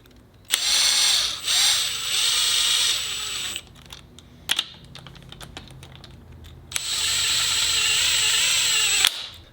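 A power tool whirs in loud bursts as engine bolts are cinched down on a Subaru EJ207 long block being assembled, with two long runs separated by short clicks and rattles of handling.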